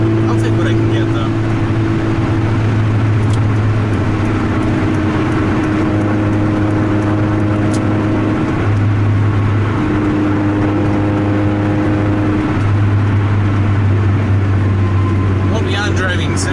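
A Honda Civic accelerating off the line and driving on, heard from inside the car: a loud, steady engine drone whose tone climbs and steps through gear changes over road noise.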